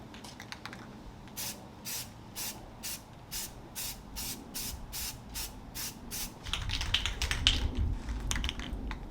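A spray can lays a second coat of primer in a run of short, regular hissing bursts at close range, followed by a louder, rougher stretch of noise near the end.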